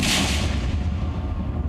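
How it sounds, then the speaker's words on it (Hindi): Heavy explosion blasts at a destroyed house in Jammu and Kashmir, a loud deep rumbling boom that fills the whole stretch and rolls on without a break, with no talk over it. "ये धमाके की आवाज तो बस आगाज है।"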